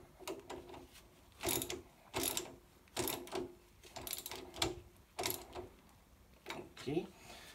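A ratchet wrench tightens a bolt and nut through the lower shock absorber arm of a 150 cc Hummer-style ATV with 10-inch wheels during assembly, giving repeated bursts of close mechanical clicking in an uneven rhythm.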